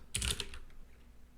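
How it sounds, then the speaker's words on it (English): Computer keyboard being typed on while entering commands during a live coding session: a quick, close burst of clattering keystrokes early on, then quieter room tone with no talking. "I'll stop typing commands before the actual prompt comes up"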